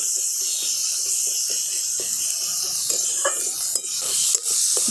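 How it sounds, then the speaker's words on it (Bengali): Grated onion frying in a pan gives a constant close hiss of sizzling oil, broken by soft scrapes and knocks of stirring. "পেঁয়াজটাকে আমি একটু ভালো করে ভাজা ভাজা করে নেবো"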